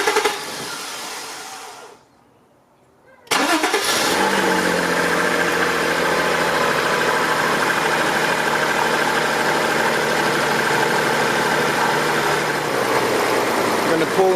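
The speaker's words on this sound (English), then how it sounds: "Now that we've replaced the injector, I'm going to start the car." A 1992 Acura Legend with a misfire, freshly fitted with a new fuel injector, cranks briefly after a short quiet gap, then catches and settles into a loud, steady idle with a slightly uneven hum that continues to the end.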